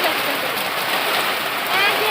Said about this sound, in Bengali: কি জোরে নামছে বৃষ্টি।